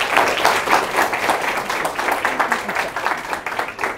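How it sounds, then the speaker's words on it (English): An audience at a distinguished lecture applauds a speaker as she comes up, with moderate, evenly sustained clapping that tapers slightly toward the end. "Give a round of applause for her."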